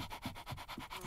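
A person imitates a small dog with quick, breathy yaps and panting-like puffs, about four short bursts in rhythmic succession, close and moderately loud.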